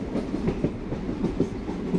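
In a train simulator game, the Sayaji Nagari Express picks up speed on its rails from Ahmedabad toward Dadar, with a steady rumble and an even clickety-clack of wheels over rail joints, loud and continuous.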